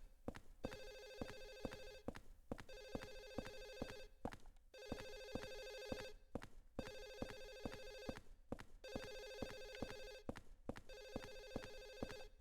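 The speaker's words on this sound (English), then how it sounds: "It's driving me crazy that I can hear this phone everywhere." A telephone in Silent Hill 4 rings from inside an apartment, about six regular double-bell bursts separated by short pauses, clear and steady with no one speaking.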